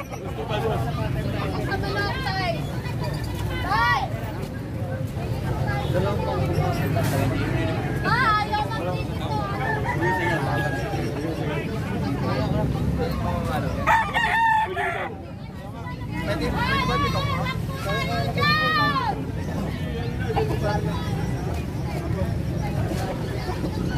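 Gamecocks at a fighting-cock farm in Bocaue, Bulacan crow repeatedly, loud and near, with clucking between the crows, while someone talks over them throughout.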